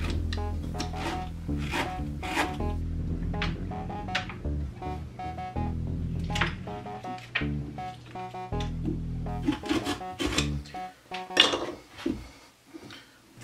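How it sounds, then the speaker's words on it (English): A scraper working the insides out of a pumpkin being carved, with repeated close rasping and knocking strokes in an uneven rhythm, some louder scrapes and thumps toward the end, no talking. "grab one of our scrapers and start scraping away in there"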